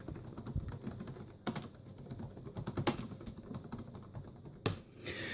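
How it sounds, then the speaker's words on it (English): Keys on a Dell Latitude CPx-J laptop tap quietly and irregularly as a name is typed, with a few sharper, louder keystrokes standing out. "so time to type my name in"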